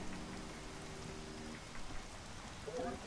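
Heavy rain falling in the video game Horizon Zero Dawn, a steady dense hiss filling the scene at moderate level, with a faint hum underneath.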